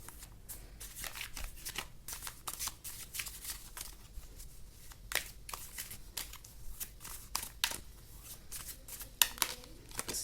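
Tarot cards are shuffled continuously for about ten seconds, with dense, crisp riffling bursts of moderate loudness at close range and no voices.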